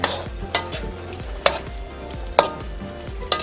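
Pineapple beef with potatoes stirred in a pan, a utensil knocking and scraping in sharp, irregular strikes about once a second over a low, steady cooking rumble.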